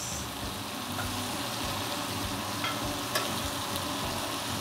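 A steak sizzles steadily in a hot pan as it is basted, with a constant crackling hiss and small spoon clinks and spatters, close and alone.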